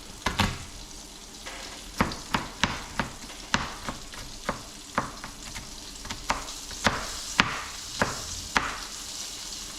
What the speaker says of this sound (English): We'll fry it up for a few minutes on each side,